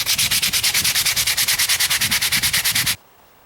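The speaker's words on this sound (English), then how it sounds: "I'm also sanding up into here so I can blend this out so it's not a hard transition" A wooden axe handle for a vintage Collins splitting axe is sanded by hand in about two dozen quick, even back-and-forth strokes, loud and close, then stops abruptly.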